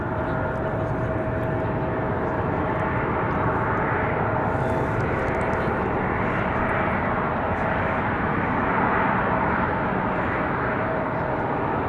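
A fixed-wing airplane comes in to land at Raleigh-Durham International Airport on a windy day, its engine roar a loud, steady wash that holds without a break for the full length.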